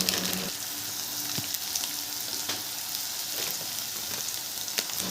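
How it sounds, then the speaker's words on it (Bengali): Ginger garlic paste and turmeric frying in a pan for a cauliflower and rui fish curry, a dense, even sizzle like light rain with a few soft stirring knocks, close and steady, no talk. "আদা রসুন বাটা সুন্দর একটা গন্ধ বেরোনোর পর আমি কিন্তু এখানে হলুদ দিয়ে দিচ্ছি"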